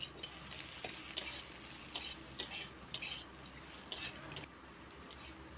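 A rohu fish head frying with onions in hot oil, a soft steady sizzle broken by a handful of sharp metallic taps and scrapes of a spatula against the pan, close and fairly quiet.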